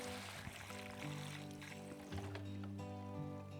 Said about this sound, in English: All the water flowing from the upper part.